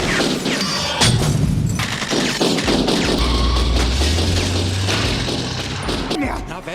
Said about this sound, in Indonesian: para montir malah hadiahkan tembakan